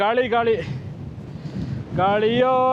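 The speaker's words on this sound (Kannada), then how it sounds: "ಫುಲ್ಲು ಗಾಳಿ" Gusty wind roars against the microphone at Kodachadri between two stretches of speech, a loud rushing noise filling the middle of the clip.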